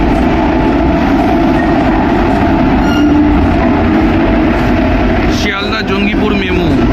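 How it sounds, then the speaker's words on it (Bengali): A crowded Sealdah–Jangipur MEMU commuter train pulls into a station on a cold day, a loud continuous rumble and rolling clatter of wheels on rails, with a brief squeal near the end. "আমাদের ট্রেন ঢুকছে"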